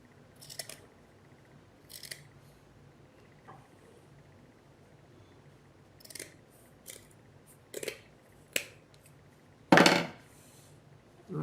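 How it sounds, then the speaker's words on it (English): Scissors snip through faux fur fabric for a prairie dog puppet in a quiet room, giving scattered, irregular crisp cuts with short pauses between them and one louder, longer snip near the end. "I'm going to trim this up, leaving maybe an inch for when I sew it together"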